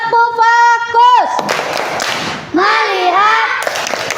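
A second-grade primary school class does a focus clap, children chanting in unison and then clapping in a short burst of sharp claps, with voices continuing afterward.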